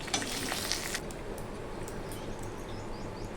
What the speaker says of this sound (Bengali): এইভাবে আমি সমস্ত মাছগুলো ভেজে নেব